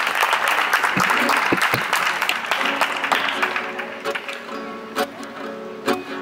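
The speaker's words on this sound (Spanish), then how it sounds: "Aplauso para Gico." Audience applause for performer Gico at an open-mic campout, a dense burst of clapping that thins out over several seconds into scattered individual claps.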